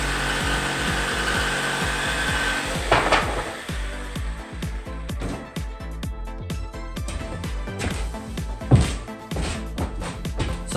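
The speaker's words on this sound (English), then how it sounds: "Every square has 2 holes in it, so I can access it with a jigsaw now." A jigsaw cuts squares out of a wooden panel, giving a steady buzzing rasp with repeated sharp knocks and clatter as the blade starts, stops and the panel shifts; close and loud, with no talking.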